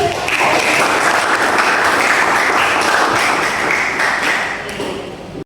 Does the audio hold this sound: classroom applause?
yes